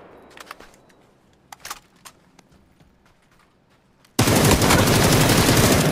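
Video game gunfire starts as a few sparse, sharp clicks and light pops over quiet background. After about four seconds it bursts into a loud, sustained roar of rapid automatic fire that runs to the end.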